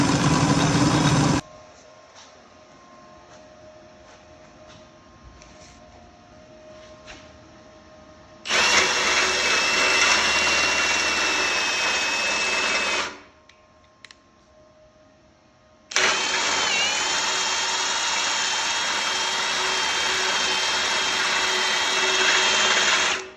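A 640 (2132) bit bores a hole with a power drill, run in three loud sustained bursts of steady whine, separated by quiet pauses filled with a faint hum.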